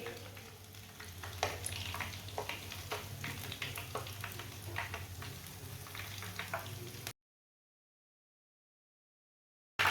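Chicken kebabs fry in a pan with a steady crackling sizzle and scattered spattering pops for about seven seconds, then silence.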